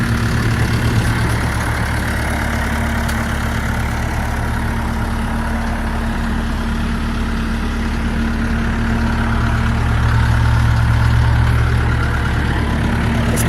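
A 2024 Cat 310 mini excavator, nearly new, idles with a steady, loud, deep diesel rumble and a constant low hum, close by and unchanging, with no talk over it.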